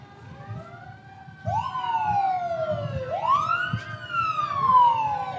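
At a St. Patrick's Day parade, an EMS vehicle's wailing siren rises and falls in long sweeping tones over a low street rumble.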